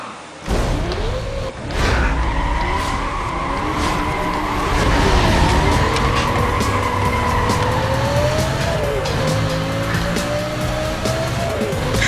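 Lamborghini racing in Need for Speed Most Wanted, played with a guitar controller: a loud, steady engine roar with rising and falling revs and repeated tire squeals and skids throughout, no talking.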